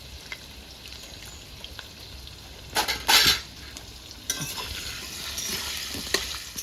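Potatoes with a little turmeric and salt frying in a pan, a soft continuous sizzle broken by sharp spatula scrapes and clinks against the metal, close and without speech.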